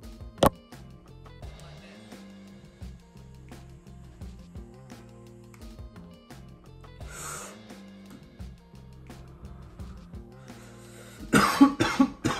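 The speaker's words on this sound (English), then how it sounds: "The first dab always makes me cough" A few sharp, harsh coughs burst out near the end after a dab of cannabis concentrate, close and loud, following a stretch of quieter background sound with a brief sharp knock early on.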